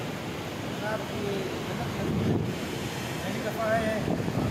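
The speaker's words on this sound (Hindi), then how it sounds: "बहुत प्यारी ठंडी हवा चल रही है" Cool July wind blowing through the mountain valley of Kalam in Swat near blue and white river water, a steady broad rush of air buffeting the microphone, with faint voices in the background.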